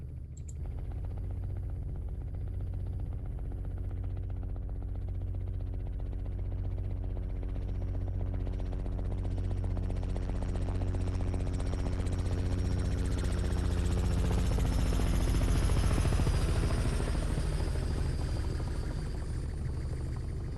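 Robinson R66 helicopter flying a recommended quiet noise-abatement procedure, a steady low rotor and engine rumble heard from a distance that swells slightly louder partway through, with no talk.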